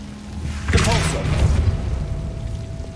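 A Depulso force spell from Hogwarts Legacy strikes with a heavy booming impact, a thudding burst that swells and rumbles on for a couple of seconds amid game effects, with a voice speaking over it.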